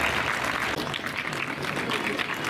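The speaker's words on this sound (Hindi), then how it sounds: "जोरदार तालियों से स्वागत किया जाए" An audience at a groundbreaking ceremony gives sustained, dense applause to welcome a guest, a loud, even wash of many hands clapping.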